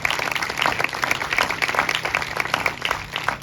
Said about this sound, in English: So let's give ourselves a round of applause for being here.